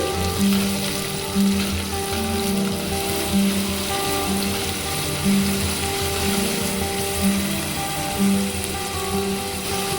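Chopped capsicum frying in a pan, a constant dense crackling sizzle close up with periodic rhythmic stirring strokes about once a second, and no one speaking.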